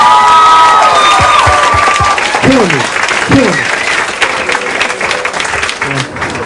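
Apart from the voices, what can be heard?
applause for a poet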